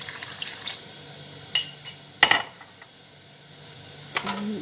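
Water goes into dhokla batter in a kitchen bowl, with a few short clinks and splashy bursts of liquid and utensils against the dish, separated by quiet gaps.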